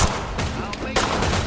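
Gunfire crackles in a multiplayer video game battle, a dense burst of rapid shots that continues through the clip with a short dip in the middle.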